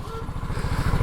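A motorcycle engine buzzes steadily and close in busy traffic, its rapid low pulsing rising slightly in loudness as it passes quickly by.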